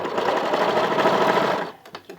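Sewing machine running steadily as it back-stitches over a seam in cotton children's underwear, a continuous close whirring stitch that stops near the end, followed by a few faint handling clicks.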